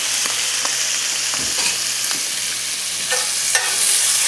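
Bacon fries in a pan to grease it for a chivito, giving a steady, close sizzle with faint crackles and light stirring scrapes throughout and no talking.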